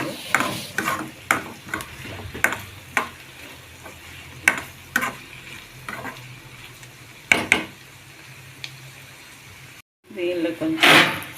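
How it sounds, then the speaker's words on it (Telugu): Onions and curry leaves are stirred in a pan, with repeated scraping and clinking strokes of a utensil over a soft background sizzle, close and fairly loud. "ఇప్పుడు దీనిలో కొంచెం కరివేపాకు, ఇవన్నీ వేసుకొని ఇలా కలుపుకున్నామండి."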